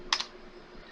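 Two quick keystrokes on a computer keyboard, close and clear, entering a command during a Windows 95 setup in VirtualBox, then a quiet room hum.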